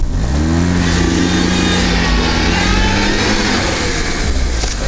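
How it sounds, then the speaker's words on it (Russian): A Lada 4x4 on mud tyres revs hard with one rear wheel spinning freely through an open factory differential, a loud steady engine drone that holds high and sags slightly near the end, close and continuous. "Колесо заднее одно крутится"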